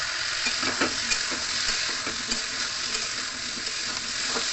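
Pieces of pointed gourd (potol) fry in a pan while being stirred, a continuous hissing sizzle with soft scraping strokes of the spatula rising above it now and then, close and steady.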